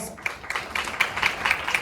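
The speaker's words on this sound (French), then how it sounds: "On peut applaudir Ubuntu et les Cosmo Performers" Audience clapping for Ubuntu and the Cosmo Performers, a martial arts and realistic fighting act at a French short film festival, comes as a steady spatter of hands from a moderate distance with rhythmic accents.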